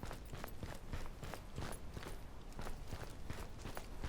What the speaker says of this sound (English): So I hear footsteps coming from the south side.